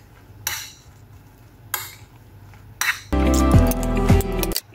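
Salad with coriander leaves is tossed in a bowl, a few separate scraping clinks followed by a louder stretch of continuous clattering and stirring of utensils against the bowl, close and with no talking.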